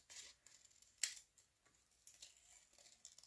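Scissors trimming excess design paper on a handmade card, a few soft close snips and crisp paper rustles, with one sharp louder cut partway through.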